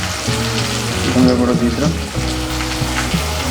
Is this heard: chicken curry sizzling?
yes